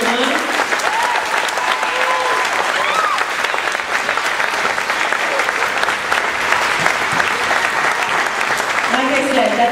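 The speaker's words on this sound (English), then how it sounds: "quick round of applause" A middle school audience applauds student soloists and ensemble members in a quick, steady round of clapping that fills the room, with a few scattered voices and cheers mixed in.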